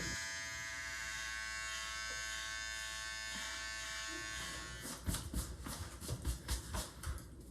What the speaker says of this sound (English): you can use a Wahl trimmer for added precision like I'm doing here